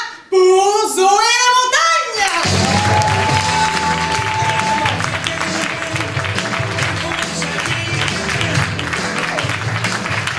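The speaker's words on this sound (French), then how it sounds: "je vous demande de faire un temps d'applaudissement pour Zoé la Montagne" A comedy-show audience breaks into loud, sustained applause and cheering that fills the room for about eight seconds, following a brief, excited spoken introduction.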